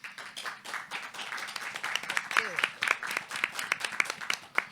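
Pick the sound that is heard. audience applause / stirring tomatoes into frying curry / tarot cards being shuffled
audience applause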